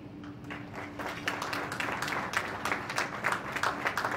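An audience claps in steady applause at a community association gathering honouring veterans, a dense continuous patter of many hands that swells slightly, with faint voices underneath.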